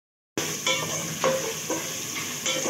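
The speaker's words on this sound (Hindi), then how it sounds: "और ज़ीरे के साथ ज़ीरे को अच्छा डाल के अभी फ्राई करेंगे।" Potatoes and cumin seeds fry in a pan with a continuous close sizzle, broken by a few soft stirring scrapes, with no talking.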